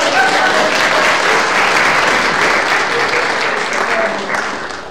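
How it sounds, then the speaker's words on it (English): Audience applause at a morning gathering, a dense, steady wash of many hands clapping at full loudness that tapers slightly near the end. "Let's give her a round of applause."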